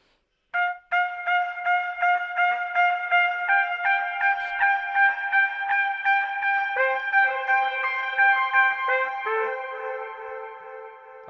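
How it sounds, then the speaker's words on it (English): A melodic instrument plays a steady run of short, clear sustained notes with a brief reverb tail, close and bright, the phrase continuing evenly for about ten seconds with no talking. "when I turn on the reverb, the short version, hopefully, might sound a little bit like the long version."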